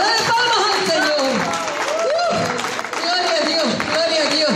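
A church congregation claps and applauds together in a dense burst. Voices and cheering rise over the clapping throughout.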